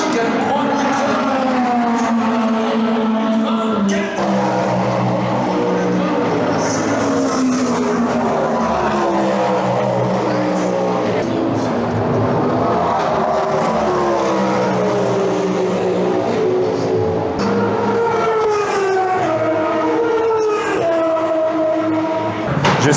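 Hypercar race cars in Le Mans 24 Hours qualifying roar past the pit buildings in a continuous, loud engine drone with rising and falling tones as they pass, dense and sustained throughout.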